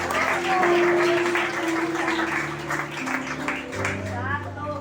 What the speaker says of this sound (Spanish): Yo no sé si tú puedes dar un aplauso por Cristo